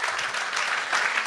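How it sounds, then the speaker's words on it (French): An audience applauds steadily, dense continuous clapping filling a talk-show studio for a birthday tribute, evenly sustained without voices standing out. "J'aimerais ça qu'on l'applaudisse."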